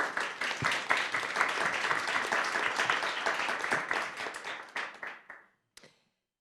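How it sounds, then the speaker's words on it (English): An audience at a panel discussion claps for a panelist, steady dense applause that holds for about five seconds, then thins and stops, followed by one last isolated clap. "a round of applause to our first panelist"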